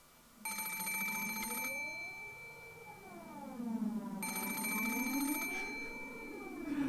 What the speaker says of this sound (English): The sudden ring of the phone made me jump so hard I thought my heart would explode